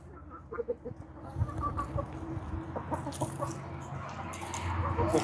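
A rooster on a farm in Mexico clucks in short bursts close by, mixed with rustling and scattered background noise that builds slightly toward the end.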